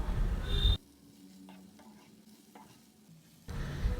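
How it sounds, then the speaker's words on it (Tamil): Drumstick leaves being stirred and sautéed in a pan, with a soft, steady sizzle and faint scraping between louder bursts of stirring at the start and end. "முருங்கைக்கீரை சேர்த்துட்டு ரொம்ப நேரம் நம்ம வதக்க வேண்டாங்க"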